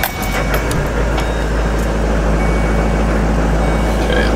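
A parked bus engine running steadily outdoors in snowy, windy weather, a loud continuous low rumble with a brief higher-pitched tone or beep near the start.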